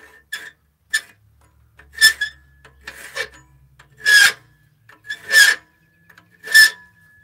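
A metal file rasps across a forged metal chess piece in repeated short strokes, about eight separate scrapes at an uneven, unhurried rhythm, close and crisp with quiet gaps between.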